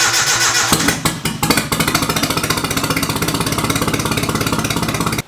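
A turbocharged Nissan 240SX engine cranks in uneven bursts, catches and settles into a loud, close, fast, steady idle with a pulsing exhaust beat until it cuts off abruptly at the end.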